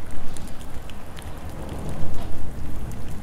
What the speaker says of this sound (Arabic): اروح حق المطر.